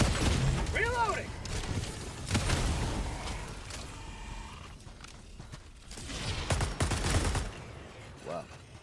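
Bursts of gunfire in Helldivers 2 crackle in clusters between mechanical clatter and footsteps, with people talking over the action.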